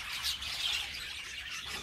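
A small aviary of Australian birds gives a steady wash of chirps and tweets, many birds calling at once at moderate loudness with no talk over them.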